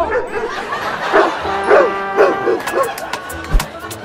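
A dog barks repeatedly in short yaps at a steady rhythm, fairly close, followed by a couple of sharp knocks.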